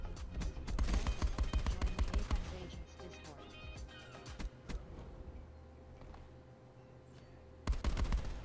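Rapid video-game gunfire from Call of Duty, loud bursts of automatic weapon shots clustered at the start and end with quieter rumbling action between.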